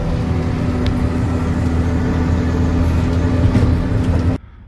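A loader rumbles steadily over frozen, bumpy, rutted ground while scraping it smooth in freezing weather, its engine drone continuous and loud with jolting rattles, before cutting off abruptly near the end.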